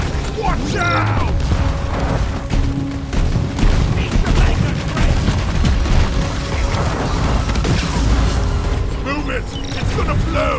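Incendiary grenade going off amid a chaotic Deep Rock Galactic Hazard 4 firefight, with loud booms and rattling gunfire layered over mechanical clanks, continuous and dense, while players shout over the action.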